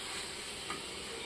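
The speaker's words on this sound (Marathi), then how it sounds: "आता आपण सध्या बनवत आहोत कोळंबीची सुकी भाजी" Prawn dry bhaji fries in a kadai of hot oil with green chillies, ginger-garlic paste and onion, a continuous quiet hiss and crackle of sizzling heard up close without pause.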